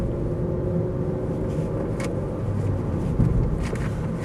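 Ford Focus 1.8 LX five-door fitted with alloy wheels and low-profile tyres, driving along with a steady low engine rumble and tyre roar from inside the cabin, even and unbroken, with one small bump near the end.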